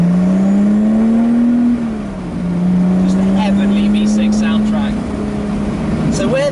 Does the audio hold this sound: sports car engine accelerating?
yes